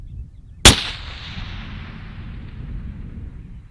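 A single sharp crack from a 224 Valkyrie TC Contender rifle fired at a 1,300-yard target, loud and sudden, followed by a low rumbling decay and quiet outdoor ambience.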